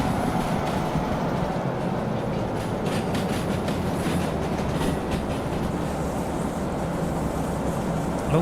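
A train in Derail Valley rolling steadily along the track, a constant loud rumble with faint high wheel squeal rising intermittently over it, no talking.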